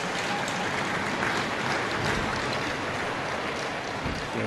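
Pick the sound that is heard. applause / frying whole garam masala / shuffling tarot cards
applause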